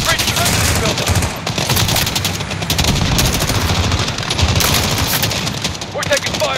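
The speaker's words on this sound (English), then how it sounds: "We're taking fire from the residence." Sustained gunfire rattles through a shootout at an embassy compound in the video game The Embassy, with dense overlapping bursts of shots and voices mixed into the din.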